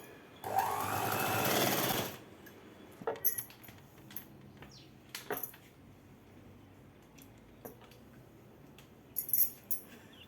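A tailoring sewing machine stitches one side of cloth for a night dress in a close, quiet burst of rapid whirring lasting under two seconds, followed by scattered soft clicks and fabric handling.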